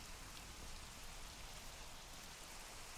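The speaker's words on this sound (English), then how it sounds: "Has it started raining? Really heavy." Heavy rain pours down steadily in Minecraft, the video game, a dense, constant hiss of drops hitting surfaces with no break and no talk.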